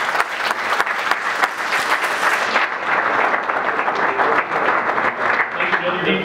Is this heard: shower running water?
no